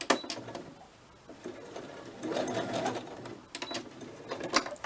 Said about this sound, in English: give that another quick sew